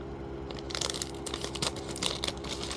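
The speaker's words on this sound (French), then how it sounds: "Bon, j'ai une paire de ciseaux." Scissors cut through packaging for a small tasting, giving a run of close, crisp crinkling and crunching snips that repeat irregularly over a low steady background hum.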